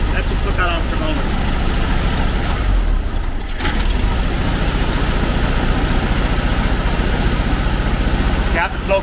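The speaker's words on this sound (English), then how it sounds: "just let the engine warm up a little bit" A VW camper engine with a vacuum leak idles as it warms up, a close, steady low rumble that runs throughout, with someone talking over it.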